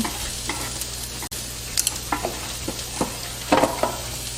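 Onion, carrot and paprika stir-frying for japchae in a pan: a steady sizzle broken by scraping stirs and occasional louder clacks of the utensil, close and without speech.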